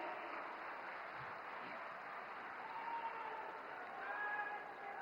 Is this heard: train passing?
no